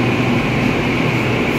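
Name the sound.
Delhi metro train running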